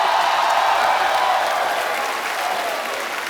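Studio audience applause on a Hindi comedy talk show, a dense, loud wash of clapping that holds steady and eases slightly toward the end.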